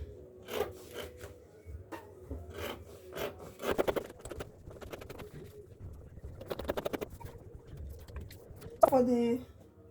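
Scissors cutting through dress fabric along the neckline, with repeated short rasping snips in bursts, close and fairly clear, broken up by pauses and a few brief handling sounds.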